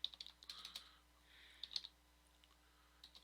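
Fingers tapping on a computer keyboard while setting up a table, with bursts of quick, light clicks separated by short pauses, fairly faint and close, no voices.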